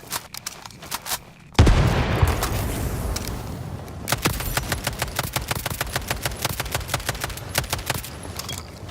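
Rapid gunfire and a grenade blast in the video game ALARA Prime, with a sudden loud burst followed by a long run of sharp, evenly spaced shots.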